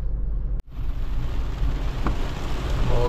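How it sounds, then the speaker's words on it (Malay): Heavy rain falling in the Cameron Highlands during a solo camping trip, a dense continuous wash of rain noise broken by one brief dropout near the start, with a low rumbling undertone. "nampak gayanya perjalanan kali ini disambut oleh hujan lebat"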